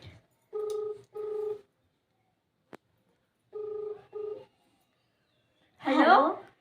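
A phone call redialed: a ringback tone sounds as two double beeps separated by a pause, with a single faint click between them, before a voice briefly comes on at the end.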